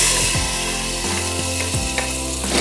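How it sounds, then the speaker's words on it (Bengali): Onion, ginger and garlic paste spices fry in a pot for beef tehari, a steady loud sizzle with scraping stir strokes throughout. "1 মিনিট মশলাগুলোকে ভেজে নেব।"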